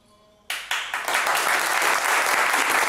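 An audience in a television talent show bursts into applause after near silence, the clapping starting abruptly and swelling into loud, sustained, dense clapping.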